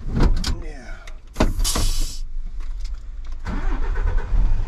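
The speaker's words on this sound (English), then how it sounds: "Let's start the engine." A Scania R450 truck's engine cranks and catches with sharp mechanical bursts, broken by a brief whirring and a door-like clunk, then settles into a steady close rumble.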